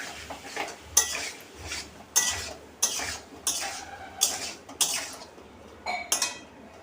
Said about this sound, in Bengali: সামান্য একটু জল দিয়ে দিচ্ছি, দিয়ে আমি আরেকটু নাড়াচাড়া করে নিই।